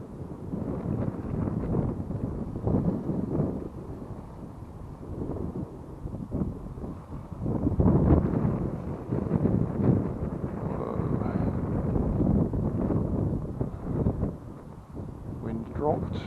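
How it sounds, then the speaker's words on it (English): Strong gusting wind roars against the microphone while a Lagoon stunt kite is flown outdoors on Durdham Downs, a continuous rumbling buffet that swells and eases, with a person talking through it. "It was too windy for them."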